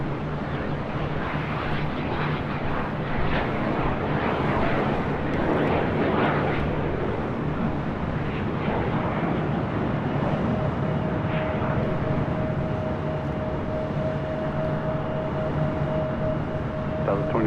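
SkyWest Embraer E175 jet airliner taking off at LAX, a continuous broad engine roar holding steady and loud for the whole stretch, with a faint tonal whine emerging toward the end.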